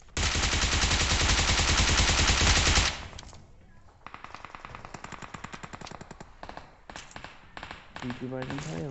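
PUBG video game gunfire: a long loud sustained burst of automatic fire, then quieter rapid shot sequences in bursts, with a voice talking over part of it.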